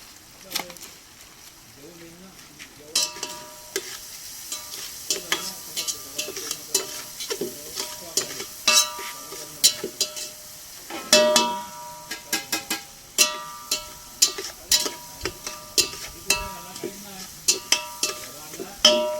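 Onion fries in a pan with a little salt, making a constant sizzle under frequent sharp clinks and scrapes of a spatula stirring against the metal. A voice speaks at times over the cooking noise.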